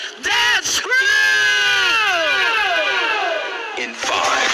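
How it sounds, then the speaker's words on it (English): A festival crowd at the Coco Festival in San Pablo City, Laguna, cheers loudly and steadily for a dance crew, with yells and whoops rising throughout. "Applause everyone for the VL Dance Crew!"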